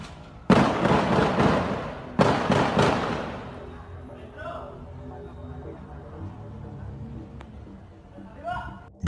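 Two sharp, loud gunshot-like bangs crack during an armed street clash in a town centre, each followed by a ringing decay, then quieter street noise with faint voices.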